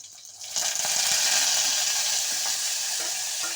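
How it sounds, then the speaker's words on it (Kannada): Green chillies and curry leaves fry in hot oil, starting with a quiet moment and then bursting into a loud, steady crackling sizzle that holds close and unbroken. "ಕರಿಬೇವನ್ನ ಸೇರಿಸ್ಕೊಳ್ಳಿ. ಕರಿಬೇವು ಎಲ್ಲ ಚೆನ್ನಾಗಿ ಫ್ರೈ ಆಗಲಿ."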